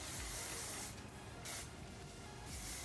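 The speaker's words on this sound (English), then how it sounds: "you wanna put in a hairspray" Workable hairspray hisses from an aerosol can onto loosely curled hair in three short bursts, close and fairly quiet, with brief pauses between them.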